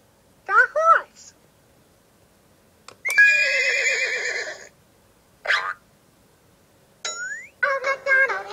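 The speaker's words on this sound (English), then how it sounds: "And on his farm he had a horse. Now, find the horse." A horse whinnies several times in short, high, wavering calls separated by pauses, loud and close, with a bright chime ringing briefly between them.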